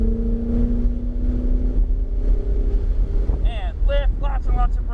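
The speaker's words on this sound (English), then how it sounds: "Accelerate all the way those 3 red cones." A Ferrari 488 GTB accelerates hard on the Dominion Raceway track, a steady engine drone under wind buffeting that breaks into rising, repeated revs near the end while an instructor talks.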